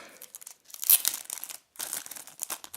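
Close crinkling and crackling of a thin plastic packet being unwrapped from around an RFID blocking card holder, in two bursts of rustling separated by a brief pause.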